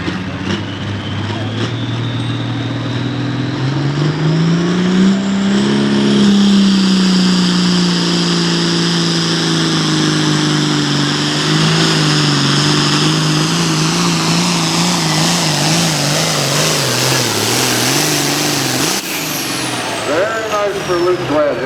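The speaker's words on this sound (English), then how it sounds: "Started to rev up and gave up there for some reason" A pulling tractor at a 2025 tractor pull in Boonsboro roars with a loud, sustained engine howl whose pitch climbs and wavers before dropping away, with an announcer talking over it.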